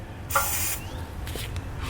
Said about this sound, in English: I'm going to spray a little bit of spray lubricant into the holes